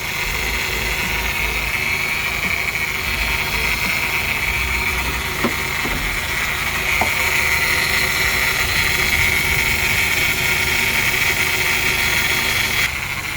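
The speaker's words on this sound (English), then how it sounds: "the engine itself sounds really good" A Honda F23A engine swapped into a 1998 Odyssey runs steadily at idle throughout, a close constant hum with a faint high whine and a couple of small clicks, with no talk.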